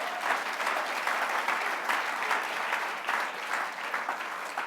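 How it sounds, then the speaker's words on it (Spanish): A church congregation breaks into sustained applause, many hands clapping together in a thick, even roar that stays strong throughout with little variation. "¿Cuánto da un aplauso al Señor?"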